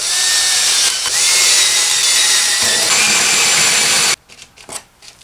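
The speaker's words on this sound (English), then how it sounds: "I'm gonna cut the hole here for the plug to charge the battery, and I'm gonna drill some holes here for the sound." Power tool cutting and then drilling into the wooden back panel of a DIY Ms. Pac-Man arcade wall decor, a loud steady whine for about four seconds that cuts off into a few short bursts, with no talking.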